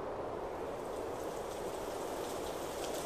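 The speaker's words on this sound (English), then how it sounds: "Ash mixed with rain." Steady rain pours down in Sakuna: Of Rice and Ruin, a dense, even hiss of falling water with no break and no voices.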